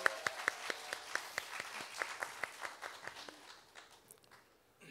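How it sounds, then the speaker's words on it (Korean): Scattered hands from a small audience at a Korean talk concert clap in a quick, steady rhythm to encourage a cancer patient, the sharp claps fairly faint and thinning out toward the end. "그분께 이겨내시라고 힘찬 격려 박수 한번 부탁드립니다"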